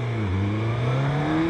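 Close engine of a Suzuki GSX-S 1000 GX motorcycle revving, a brief rising whine that dips and then climbs steadily in pitch over a second and a half, loud and alone.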